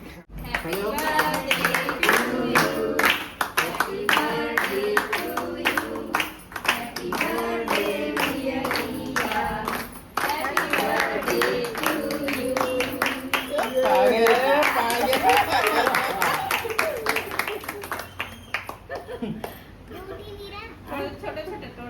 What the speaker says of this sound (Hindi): चलो फिर से हैप्पी बर्थडे करके ताली बजाना है।